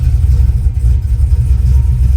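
Car engine idling roughly with an uneven, choppy, lumpy rhythm, a loud close low rumble pulsing through the whole short stretch, with no voices.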